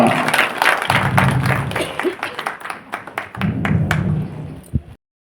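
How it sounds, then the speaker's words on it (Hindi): An audience at a stage event applauds guests arriving on the platform, with two waves of fairly loud clapping and some voices mixed in, ending abruptly. "जरा जोरदार हो तालियां"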